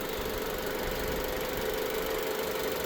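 A 2016 Jeep Cherokee's 2.4-liter four-cylinder engine running under an open hood, a steady, even idle hum with a faint mechanical tick and no voices.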